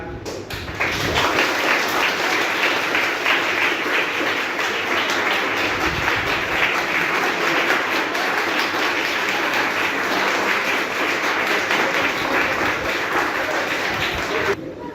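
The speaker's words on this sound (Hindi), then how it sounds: "फिर से एक बार ताली बजा।" An audience applauds at a lecture on innovation and entrepreneurship, with dense, steady clapping that starts abruptly, holds evenly for over ten seconds and then cuts off.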